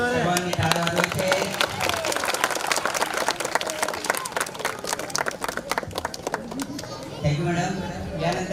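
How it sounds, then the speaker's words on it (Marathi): An audience at a school Independence Day and community event claps steadily, a busy wash of many hands, with chatter and voices mixed in throughout and a speaking voice rising near the end. "सर्वांनी टाळ्या वाजवायचे."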